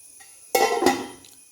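A metal lid clanks down onto a cooking pot of winged-bean aviyal, a single sharp close clatter with a brief ringing rattle after it in a quiet kitchen.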